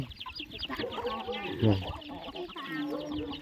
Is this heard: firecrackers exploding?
no